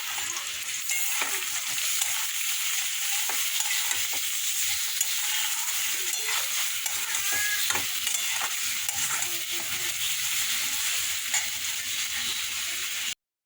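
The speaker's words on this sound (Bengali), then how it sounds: "মশলাটা ছিল পিঁয়াজ টিয়াজ সব একসাথে মেখে নিয়েছি মেখে নিয়ে এবার ভাজাটার মধ্যে দিয়ে কষবো" Onion and spice paste stir-fried with potatoes in a pan, a steady close sizzle of frying with scraping stirring strokes throughout, no voices.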